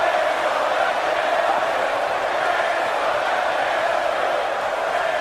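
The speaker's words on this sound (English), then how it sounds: "This crowd is into it, man. You can hear them. Some of them chanting for Bray Wyatt." A steady, roaring arena crowd cheers in the WWE 2K18 wrestling video game during a Bray Wyatt versus Goldberg match, a constant broad wash of massed voices with no breaks.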